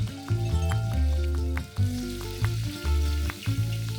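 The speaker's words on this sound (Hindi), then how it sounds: "आलू डालने के बाद इसको भूनेंगे 1 से 2 मिनट के लिए" Cubed potatoes frying in hot oil with cumin inside a pressure cooker, a loud continuous sizzle with rhythmic stirring scrapes and clinks repeating every second or so, no talking.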